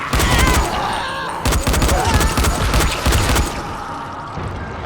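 Rapid automatic gunfire from a 2015 first-person shooter game during a shootout with enemies, loud, continuous overlapping shots with a brief gap partway through.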